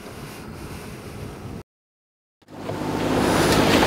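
A sailboat running under its engine at sea, heard as steady broadband wind and water rush that cuts to silence midway, then returns louder with a low engine-like drone and surging wash.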